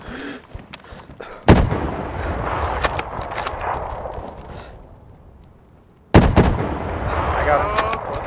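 Gunfire in modded DayZ: two loud, sharp shots crack far apart, each trailing off into a long echoing rumble, with fainter pops and quiet talk between them.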